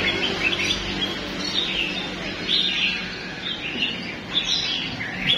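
Caged songbirds in a pet bird shop chirp and tweet continuously, a dense overlapping chorus of bright, high calls close by with no talking.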